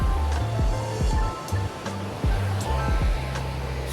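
Rushing water from a river beside a trail near a Tennessee waterfall, a steady close roar with low gusty rumbles and occasional splashy bursts, no voices.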